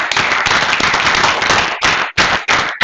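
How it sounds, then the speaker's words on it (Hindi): Students in a class clapping hard and loudly for the top scorers, a very loud, dense wall of claps that breaks near the end into a few sharp unison bursts, like soldiers. "और अच्छे से बजाइए। Clap like soldiers."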